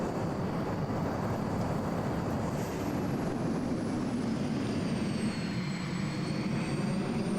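A Boeing 747 airliner cruising in a flight simulator game gives off a steady, even jet engine roar with a low rumble and a faint high whine that slowly drifts downward in pitch.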